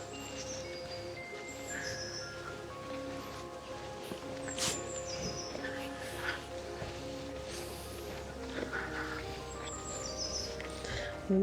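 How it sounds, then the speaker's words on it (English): Several birds chirp and call intermittently over a steady outdoor marshland ambience, with faint footsteps and rustling nearby on a grassy path. "listen to the birds"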